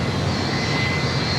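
A steady jet roar at Los Angeles International Airport as an Aloha Air Cargo airliner bound for Honolulu moves on the field, a constant broadband engine rumble with a faint whine on top, no voices.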